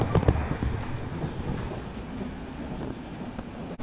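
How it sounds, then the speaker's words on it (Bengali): Inside the Kandari Express, an LHB-coach night train running from Digha to Howrah: a steady low rumble of wheels and carriage, with a couple of heavy clunks near the start, then an even droning roll. "যেহেতু রাতের ট্রেন জার্নি,"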